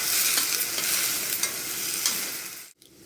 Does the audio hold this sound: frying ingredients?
yes